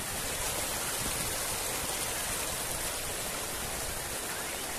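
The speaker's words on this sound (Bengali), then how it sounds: "এই দেখো কিরকম ঝর্ণা নামছে।" A waterfall of crystal-clear water in Pasighat, Arunachal Pradesh, pours in a dense, continuous broadband rush, loud and close, with no other sounds above it.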